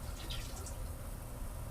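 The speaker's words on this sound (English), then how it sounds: "then you're going to empty the urine into the toilet" Urine poured from a graduated measuring container into a toilet, a soft steady trickle of liquid into water, faint and continuous.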